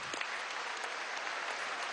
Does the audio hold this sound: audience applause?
yes